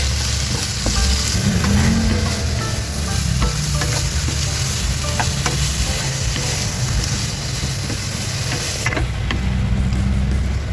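Fresh chunky tuna and garlic sauté for tuna sisig, sizzling loudly and steadily in a pan throughout, with intermittent stirring scrapes up close and no talk.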